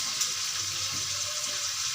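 Prawns sizzle in oil on a tawa with a steady, close, hissing fry and faint crackles, with no voices.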